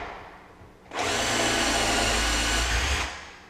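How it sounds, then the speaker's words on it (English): A power drill with a 1/4-inch bit bores a hole through cabinet wood to mount hardware, a loud steady whine starting abruptly after a quiet moment, holding for about two seconds, then winding down. "Now I can take my 1/4-inch drill bit."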